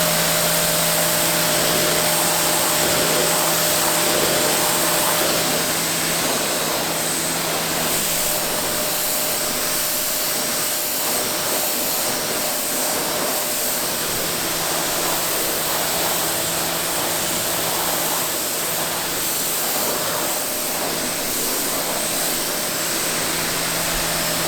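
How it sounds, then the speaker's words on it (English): A pressure washer blasts soapy car emblems coated in Plasti Dip, a loud, continuous rushing hiss of spray that holds steady for the whole stretch, with no voices. "So I'm gonna go ahead and pressure wash both the emblems"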